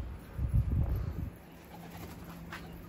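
Tumbler pigeons give a few low, soft coos close by in the first second, then the sound fades to a quiet outdoor background.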